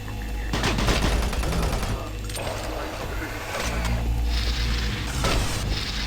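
Rapid gunfire bursts crackle through Doom 3 combat, with dense overlapping shots and booms over a low rumbling game backdrop, fairly loud and continuous with brief shifts in intensity.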